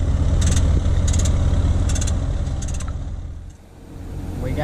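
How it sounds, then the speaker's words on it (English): A farm truck's engine runs steadily and close, a loud low rumble that dips briefly and then recovers, while air is pumped into a nearly flat tire on a planter, with intermittent high clicking and no speech. "He just started the truck for the air."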